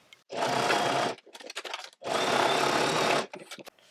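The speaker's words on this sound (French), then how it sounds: "Et on va venir coudre à 1 cm comme ça." A sewing machine stitches the seam of a fabric pouch at close range, running in two steady bursts of about a second each, with short handling noises in the pause between them.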